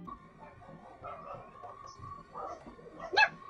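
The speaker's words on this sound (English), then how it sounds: "in which his dog Karl got a little too excited" A pet dog gets excited during an Earthbound speedrun, giving a few soft whimpers and yips and then one sharper bark near the end, heard faintly in a quiet room alongside a steady electronic hum.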